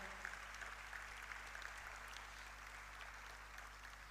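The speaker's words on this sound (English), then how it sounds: "Please, a round of applause for them." A convention audience applauds university delegates in a sustained, steady wash of clapping, fairly distant and even throughout without any break.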